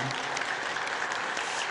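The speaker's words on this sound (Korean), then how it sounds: "영광의 박수를 하나님께 돌립니다." A church congregation at a Sunday service claps in unison, a brief, full wash of applause that holds steady throughout.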